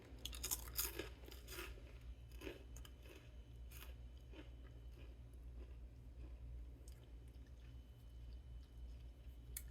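Someone bites into a crunchy, Cheez-It-like cheese cracker and chews it close to the microphone, sharp crunches at first settling into steady, softer chewing over a low background hum.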